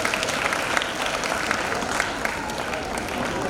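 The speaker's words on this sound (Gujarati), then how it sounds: "તાળીઓ પાડો." Audience applause fills a school award ceremony honouring a student for 235 days of attendance, a steady, dense clapping that holds evenly from start to finish.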